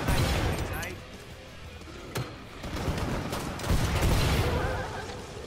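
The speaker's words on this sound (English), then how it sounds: "There's so many explosions." Explosions and gunfire in the video game Killing Floor 2, a dense stream of blasts and shots with a few sharper bangs standing out, while people talk over the action.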